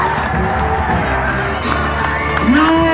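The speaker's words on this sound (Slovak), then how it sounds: "Skutočne toto si zaslúži obrovský potlesk." A crowd at a 2009 drift event in Slovakia cheers and shouts in a loud, continuous roar, with a rising tone near the end.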